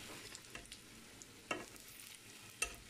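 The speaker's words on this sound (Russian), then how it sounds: "Обжариваю с двух сторон." Meatballs of rice are frying in a pan, a steady soft sizzle with occasional faint clicks and stirring sounds, fairly quiet and without any talking.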